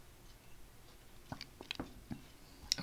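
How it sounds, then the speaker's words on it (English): A loud gulp made right at the microphone, heard as a few soft, close, wet swallowing and mouth clicks against a quiet room. "that might have been a bit of a loud gulp"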